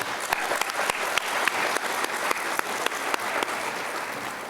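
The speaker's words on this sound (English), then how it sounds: "Let's give a round of applause for our sponsors" An audience applauds sponsors at a Distinguished Young Women program, with full, steady clapping from a crowd and crisp individual claps popping through, sustained without talk.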